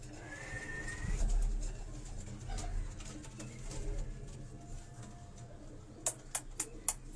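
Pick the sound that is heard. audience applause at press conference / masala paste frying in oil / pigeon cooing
pigeon cooing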